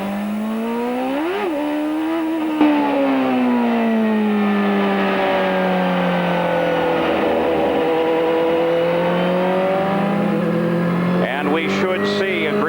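IndyCar race cars at New Hampshire during the 1995 New England 200 make a loud engine whine that rises and falls as they sweep by, with a commentator's voice running underneath.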